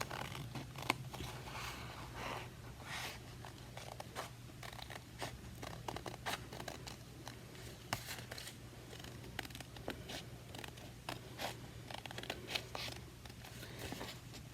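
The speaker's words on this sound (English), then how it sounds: "Again, notice I'm cutting it all in one piece." Scissors snip steadily through paper, cutting a leaf shape out in one piece for a positive and negative space leaf artwork, with quiet close crisp clips repeating over a faint low hum and no talking.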